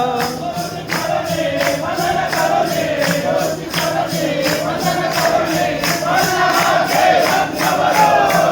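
Steady hand clapping keeps time with a group singing a Marathi devotional bhajan to Swami Samarth at Parel math, rhythmic claps under the chanting voices throughout, fairly loud and close.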